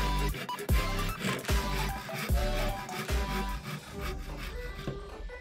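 Hand saw cutting a wooden stick to length for a new knife handle, a rhythmic series of close, strong rasping strokes with sharp attacks repeating roughly every half to one second.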